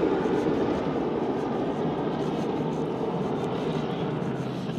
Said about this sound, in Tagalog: Oh, you see that? An helicopter.